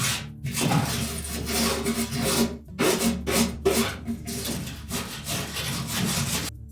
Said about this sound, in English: We can also take a wire brush. Just remove as much of that as we can.